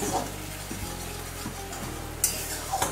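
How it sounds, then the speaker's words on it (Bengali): Poppy seed paste sizzles in hot oil in a pan while being stirred, a continuous frying hiss marked by occasional clinks and scrapes from the spoon, with a sharper clatter near the end. "পোস্তটা একটু ভালো করে তেলের মধ্যে একটু নেড়ে চেড়ে নিচ্ছি।"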